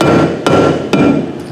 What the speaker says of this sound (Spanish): podemos utilizar por el momento un martillo de goma